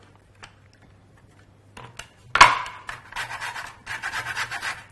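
Lemon rind being grated on a grater, a few bursts of rasping scrape in quick succession after a short quiet start, close and clear with no talking.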